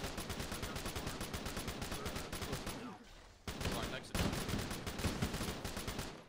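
Rapid, evenly spaced bursts of weapon fire in Halo, plasma mortar shots among them, pounding continuously and close with a brief dip midway before resuming just as dense; no clear speech over it.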